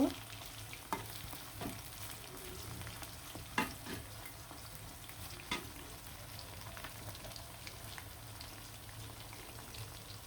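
Small chicken pieces frying in a pan, a soft, continuous sizzle like light rain, with occasional louder clicks and knocks from stirring; no voices.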